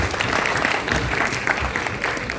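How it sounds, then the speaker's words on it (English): Audience applause at a session, steady dense clapping from a room full of people, loud and continuous throughout without speech. "A round of applause for her"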